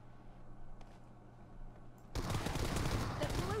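Gunfire in a shooter video game: a quiet stretch with faint clicks, then an abrupt burst of loud, dense automatic fire that continues to the end, with a voice faintly heard under it.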